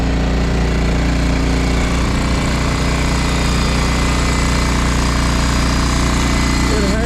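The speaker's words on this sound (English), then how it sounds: "getting our grinding taken care of" Grinding on a Takeuchi TB290 excavator bucket during repair work is a loud, steady, unbroken roar of metal abrasion that fills the whole stretch, with a machine drone beneath it.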